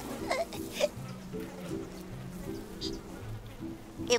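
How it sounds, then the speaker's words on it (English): A bee buzzes near a hive outdoors, a faint droning hum running under soft background sounds and a few brief high cries, with no one speaking. "Uh-oh, is that a bee?"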